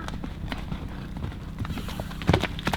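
Two horses move loose during a liberty-work demonstration, their hooves giving soft, irregular clip-clop steps on the ground, fairly close, with a louder cluster of footfalls near the end and low background noise.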